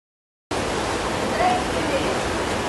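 Floodwater rushes through a flooded city near the Pampulha airport in Belo Horizonte, Brazil, a steady loud broadband roar that starts abruptly and continues unbroken, with no voices heard.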